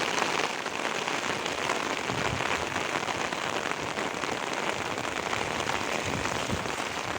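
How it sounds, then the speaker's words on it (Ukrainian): Heavy rain pours down steadily, a dense, even hiss of drops hitting surfaces that stays loud and unbroken throughout. "зараз падає такий дуже дуже сильний дощ"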